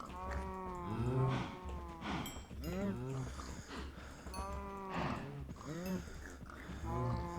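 Cattle lowing in Minecraft, a run of drawn-out moos overlapping one another at steady volume through the stretch, with a voice mixed in among the calls.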